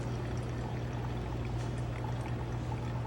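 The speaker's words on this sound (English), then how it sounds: "our goal now is to basically accomplish the rest of the brew in one pour" A steady, continuous pour of water over coffee grounds in a V60 brewer, sustained and even with no talking, heard up close.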